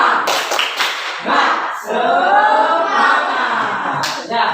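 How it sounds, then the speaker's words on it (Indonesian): A classroom of students performs the rhythmic 'tepuk semangat' clapping chant, sharp group claps in quick patterns mixed with shouted chanting voices, fairly close and loud. "Sekarang kita tepuk semangat ya."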